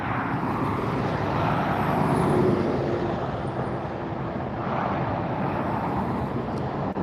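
A Delta Airlines Airbus A350 arriving at LAX produces a broad, steady jet roar from a moderate distance near the runway, swelling slightly and then easing, with some wind noise and no talking.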